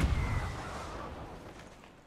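A pirate ship cannon fires in the video game Sea of Thieves: one heavy boom opens the clip and then fades into a long rumbling decay.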